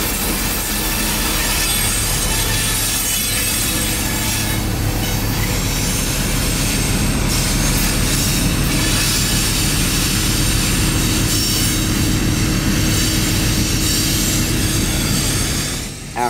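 Two new CSX ST70AH locomotives lead a freight train rolling past at close range, a loud continuous rumble of engines and wheels with steady clatter and occasional squeal of wheels on rail.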